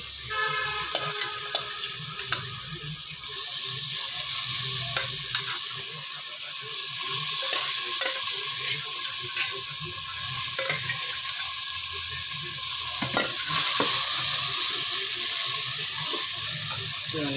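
Chicken is tipped onto browned onions and stirred in a hot pan, giving a continuous frying hiss with scattered scrapes and clinks from the spoon. The sound is fairly close and there is no talk.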